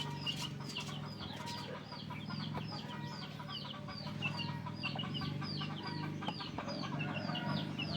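Rhode Island chickens cluck and chatter in a steady flock, with repeated short calls overlapping at moderate distance against a soft farmyard background.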